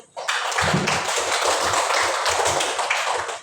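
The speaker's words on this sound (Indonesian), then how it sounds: "Ya, tepuk tangan dulu." A classroom audience claps together after a presentation, a dense burst of close applause with scattered individual hand claps, starting abruptly and continuing steadily to the end.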